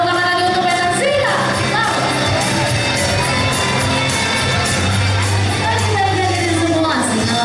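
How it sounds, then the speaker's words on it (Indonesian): A crowd cheers and shouts on a school study tour to Jakarta, a loud, dense wash of voices and whoops with rising and falling calls throughout. "Masih tepuk tangan lagi untuk Peter Zina"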